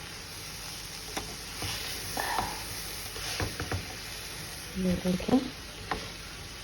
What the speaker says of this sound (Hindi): इनको करेंगे अच्छी तरह से मिक्स ताकि सारी सब्जियां और नमक मिर्च सब कुछ एक साथ में मिक्स हो जाए।